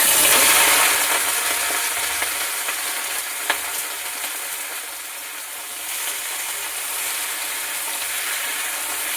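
Vegetables frying in hot oil in a kadai, a loud continuous sizzle close by, with an occasional clink of a utensil against the pan.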